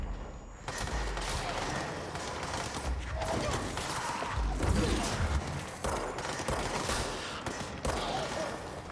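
Gunfire in the video game Control, a steady barrage of rapid shots and thumps at moderate level, continuing through the whole stretch without pause.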